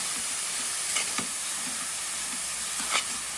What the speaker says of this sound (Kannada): ಎಲ್ಲ ಫುಲ್ ಹಸಿ ಸ್ಮೆಲ್ ಹೋಗೋ ತನಕ ಇದನ್ನ ಈ ಥರ ಹುರಿಯಿಂದ